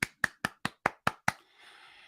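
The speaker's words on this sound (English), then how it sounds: "Brent's clapping." Seven crisp, evenly spaced hand claps close up, followed by a faint fading hiss of background noise.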